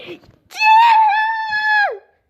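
A man lets out one loud, drawn-out shout close to the microphone, rising sharply and holding for over a second before cutting off.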